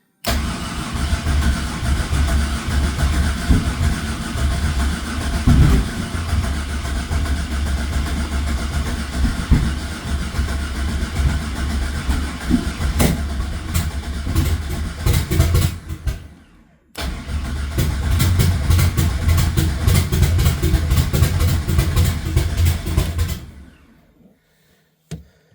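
A Nissan 240SX project car engine cranks loudly and continuously, straining to start. The cranking stops briefly, resumes just as hard, then cuts out, leaving near silence.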